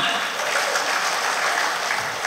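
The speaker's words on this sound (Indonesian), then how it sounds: "Tepuk tangan untuk kita semua" An audience at a village-development forum event applauds in a dense, continuous wash of clapping that stays loud and even throughout, with no one talking.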